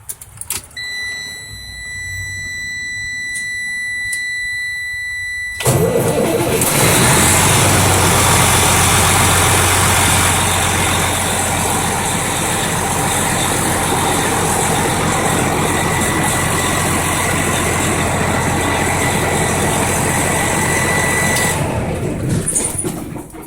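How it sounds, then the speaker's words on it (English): A 2006 Freightliner truck's diesel engine cranks and fires after a few seconds of faint electronic chiming, then settles into a loud, steady idle with a deep rumble that continues close by until it cuts off near the end. "I'm going to go start the truck"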